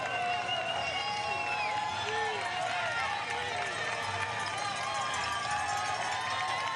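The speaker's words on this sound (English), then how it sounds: "This crowd that has been growing louder all day long." A roadside crowd on the Camillien Houde climb at the 2025 Grand Prix Cycliste de Montréal roars, whistles and shouts continuously and loudly while a race commentator talks over it.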